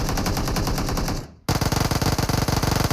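Rapid automatic gunfire from an M4 and an Uzi in a video game, a loud continuous burst that cuts off briefly, then resumes as a dense, fast rattle of shots.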